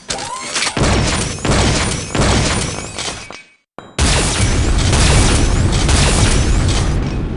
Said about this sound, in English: Here's some footage of the previous flat cannons to see what I mean.